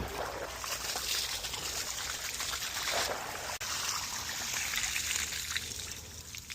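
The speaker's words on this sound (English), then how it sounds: "And out comes the water." Water trickles and splashes steadily as it drains out of a lifted pool cover water bag, a soft continuous outdoor dribble heard up close.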